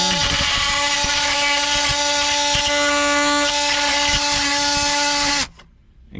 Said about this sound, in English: So you'll need to do this with the multi-tool to get rid of all this plastic